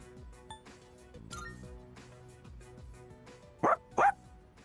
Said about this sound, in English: Man, you're one loyal dog.